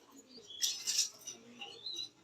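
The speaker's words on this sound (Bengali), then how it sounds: "এখানে আমরা এক জোড়া জার্মান শিল্ড কবুতর দেখতে পাচ্ছি" A pair of German Shield pigeons, one yellow and one red, giving soft low coos close by, with a few brief brighter chirps and faint wing rustle in a quiet loft.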